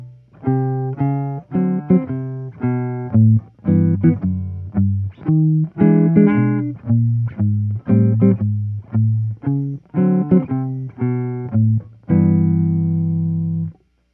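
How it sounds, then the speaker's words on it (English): Solo jazz guitar walking a bass line while comping chords, some placed as two quick eighth-note stabs starting on beat one, in a clear syncopated rhythm that ends on a sustained chord. "One other syncopation that you could throw in there is actually playing 2/8 notes starting on beat 1"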